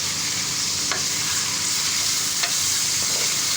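Coarsely pounded ginger, garlic and green chili paste roasting in hot oil with a pinch of salt, giving a continuous loud, close sizzle with a couple of brief stirring scrapes and no voices.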